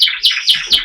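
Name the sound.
buff-coloured pet bird calling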